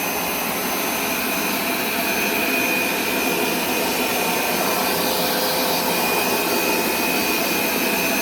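A Hoover carpet cleaner running in dry-only suction mode gives a loud, steady motor roar with a whining hiss, holding an even level throughout with no talking.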